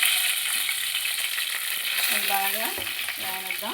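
Washed curry leaves sizzle and crackle steadily in hot oil for chicken biryani, a loud continuous fry with brief bursts of spitting, heard alone.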